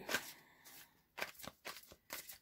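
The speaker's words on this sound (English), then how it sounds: "While I'm shuffling the cards" A deck of tarot cards is shuffled by hand in several quick riffling bursts, close and crisp, separated by short pauses.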